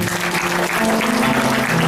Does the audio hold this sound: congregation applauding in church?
yes